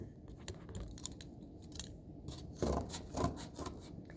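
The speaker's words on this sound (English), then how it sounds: "you just take your scissors" Scissors make repeated close, crisp snips while cutting material for a stick-on initial, a few quiet irregular cuts with light rustling between them.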